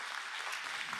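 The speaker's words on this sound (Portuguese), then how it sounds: "Então aplauda Jesus, bem forte," A church congregation at a praise and worship service claps together in a dense, steady burst of applause, close and sustained for a moment.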